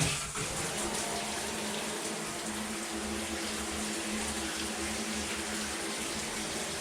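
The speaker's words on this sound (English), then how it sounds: "Let's see if the shower works." Water runs from a newly installed shower in a bathtub converted to a shower, a steady full hiss and splatter that holds evenly throughout with a faint low hum underneath and no talking.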